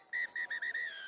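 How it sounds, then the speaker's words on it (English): A referee's whistle sounds at the end of a match: four short, shrill blasts followed by a longer trailing one, clear and close, with no voices over it. "And that is the final whistle."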